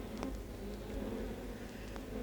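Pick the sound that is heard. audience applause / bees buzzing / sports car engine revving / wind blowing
bees buzzing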